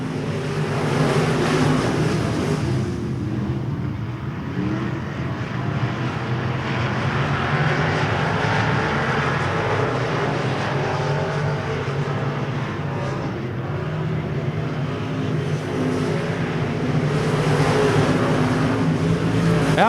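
Race car engine roaring under throttle at RPM Speedway during a KR Cup race, a loud, sustained broadband drone that holds steady for the full stretch with slight swells, no talk over it.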